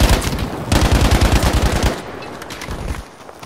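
Rapid machine-gun bursts from the video game Battlefield V on Xbox One X crackle loudly for about two seconds, then give way to quieter scattered shots and faint battle noise.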